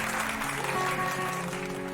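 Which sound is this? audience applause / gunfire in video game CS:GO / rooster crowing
audience applause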